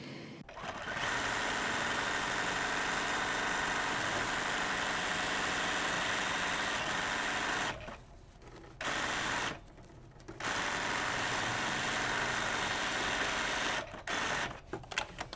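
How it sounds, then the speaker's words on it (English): A sewing machine stitches the lining of an overnight bag in long continuous runs with a steady mechanical whir, broken by two brief pauses and a few short bursts at the end, close and loud. "So I'm going to get it stitched in and then for both sides"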